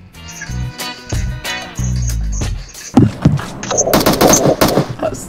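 Bursts of automatic gunfire in PUBG Mobile, loud and rapid, mixed with game effects and a sharp boom partway through, with no speech over the shooting.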